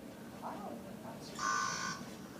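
An NXT Door Alarm 3000 ultrasonic door alarm lets out a steady, fairly loud electronic buzz for about a second, following faint murmuring in the background.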